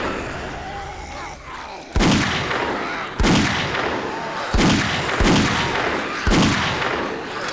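Five loud Magnum revolver shots fired in the zombie survival game 7 Days to Die, each a sharp blast with a lingering tail, spaced roughly a second apart after a quieter opening.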